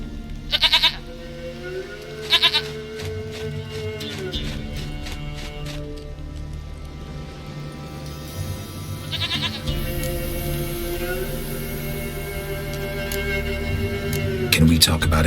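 A goat in The Witcher 3 video game lets out several short, sharp bleats spread across a stretch of in-game ambience, with a character's voice talking between them.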